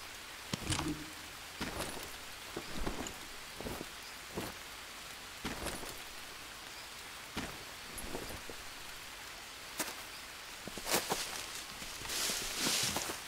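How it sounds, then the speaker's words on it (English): Rain falls steadily in the jungle survival game Green Hell, a soft hiss with scattered sharp drop taps and footstep-like thumps at irregular intervals, continuous and fairly quiet throughout. "It's raining."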